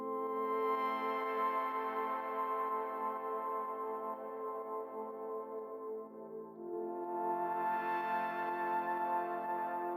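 A low, warm synth pad, the Vegas pad preset in Diva for a melodic techno track, holds a thick sustained chord that swells, dips around six seconds, then returns brighter, playing alone without talk.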